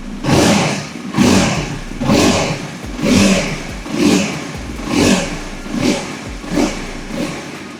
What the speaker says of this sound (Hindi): this is how this motorcycle sounds on an idle mode. Now let's rev it little bit.